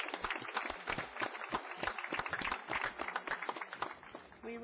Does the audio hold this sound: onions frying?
no